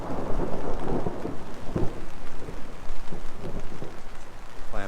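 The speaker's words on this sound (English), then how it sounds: "Thunder, lightning, the whole bit." An angry thunderstorm rolls over a backcountry lake area, with steady heavy rain drumming and low thunder rumbling continuously, loud and close, no voices present.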